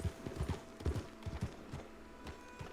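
Horse hooves in the video game Skyrim clop in a steady, quick rhythm, fairly faint and alone over a soft background hum.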